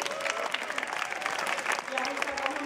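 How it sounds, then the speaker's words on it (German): Festival crowd applauding at an outdoor vegan cooking show in Munich, a dense continuous wash of clapping mixed with crowd chatter and a voice over it. "Jetzt gebt mir noch mal bitte einen Applaus."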